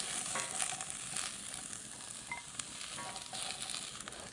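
Vegetables searing in a pan for a braise, a quiet, even sizzle with faint crackles and occasional light stirring ticks throughout.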